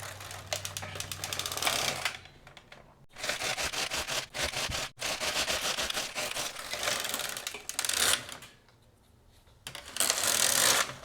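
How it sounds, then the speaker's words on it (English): A knitting machine carriage runs back and forth across the needle bed knitting waste yarn, giving loud, dense mechanical clattering passes with short pauses between them, close up and without talk. "then you just knit across with your waste yarn"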